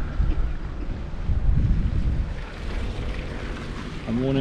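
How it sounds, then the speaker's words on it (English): Strong wind buffets the microphone continuously on a cold open plain, Wilverley Plain, a loud low rumble throughout, with a brief voice near the end. "Very cold, very windy."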